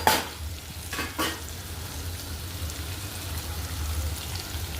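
Okra, garlic and onion fry in a pan with a steady crackling sizzle, close and even, punctuated early by a couple of sharp scraping stirs of a spatula.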